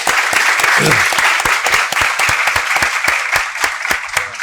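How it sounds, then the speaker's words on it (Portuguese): Dense audience applause at a university inaugural lecture in Brazil, many hands clapping steadily and loudly for several seconds, fading slightly toward the end. "Uma salva de palmas para o professor Felipe"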